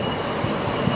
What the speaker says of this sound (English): Here's another tram,